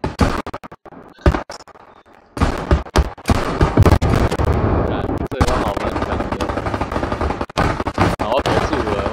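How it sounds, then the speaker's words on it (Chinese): Artillery shelling and gunfire in the WWII shooter game Hell Let Loose: loud, dense bursts of gunshots and booming explosions crowd together, with brief lulls between volleys. "我也被炮轰。"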